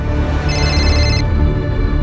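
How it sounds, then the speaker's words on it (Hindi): A synthetic phone ringtone chimes briefly over a steady background hum, fairly loud. "इतनी रात को मानसी का फोन?"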